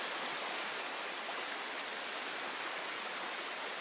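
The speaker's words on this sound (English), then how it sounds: "Standing out in the river." A river flows steadily with a broad, even rush of water from close by, constant and unbroken, with no voices.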